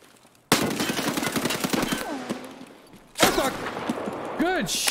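Automatic gunfire in the shooter Escape from Tarkov, two loud bursts of rapid rifle shots separated by a brief lull, crisp and close with ringing tails fading between them.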